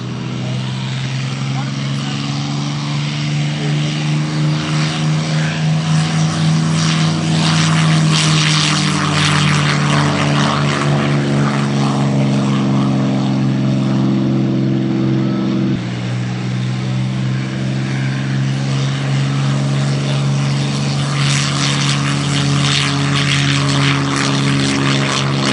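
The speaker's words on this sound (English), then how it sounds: "listen to the sound of these beautiful Merlin engines" Loud, steady drone of piston aircraft engines, Rolls-Royce Merlins, running at an airshow, with the pitch shifting partway through as the engines change note; the engine roar fills the whole stretch with no talk over it.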